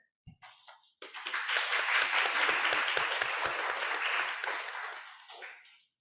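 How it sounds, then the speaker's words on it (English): An audience at a lecture on intersectionality applauds its speakers. A few scattered claps lead into a full, dense burst of clapping that holds for several seconds before tapering off. "Another round of applause for our speakers, please."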